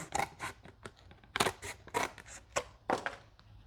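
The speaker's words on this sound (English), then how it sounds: "Right, so we just cut a little sliver off like that." Scissors cut a small sliver off a piece of cardboard in a series of quiet, close, irregular snips and crunches.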